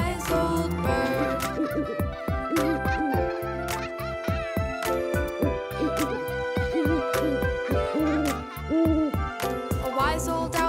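A nursery song with a steady beat and bright instrumental backing, with hoot-like owl calls woven through the music about a wise old owl; no clear singing stands out.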